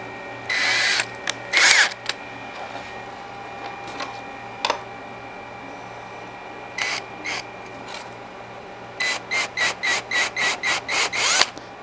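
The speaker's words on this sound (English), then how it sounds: "Switch out to a drill bit that is just a little bit bigger than the tapered end" A power drill whirs in several short bursts while drilling 3D-printed plastic, first a few isolated pulls, then a quick run of about eight evenly spaced pulses near the end. The drill sounds close.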